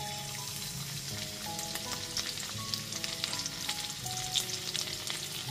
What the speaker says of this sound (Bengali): সমস্ত চিকেনের পিসগুলোকে ভেজে তুলে নেওয়ার পর ওই একই তেলের মধ্যে আমি দিয়ে দিচ্ছি রসুন